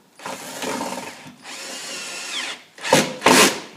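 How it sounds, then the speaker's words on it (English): A power drill with a larger bit bores countersinks for screw fixings in hardwood timber. Two longer, steady whirring passes are followed by two short, sharp bursts, all close and without talk. "do the countersink with a larger drill bit to get these countersink drill bit fixings in"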